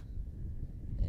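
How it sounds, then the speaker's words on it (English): Wind buffeting a microphone outdoors at a high school baseball game, a low, steady rumble that swells slightly toward the end. "especially with this wind. You can hear it right now."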